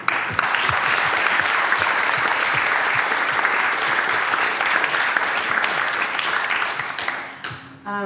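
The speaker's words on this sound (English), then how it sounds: "So I invite you to join me for a big round of applause." An audience at a Digital Humanism lecture at the Austrian Cultural Forum in New York gives a big round of applause, dense and even clapping that holds steady, then fades out at the end.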